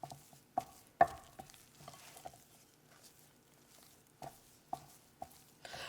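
A utensil scrapes the sides of a bowl and folds sticky no-yeast bread dough, giving soft intermittent thuds and wet scraping strokes close by and with no one talking.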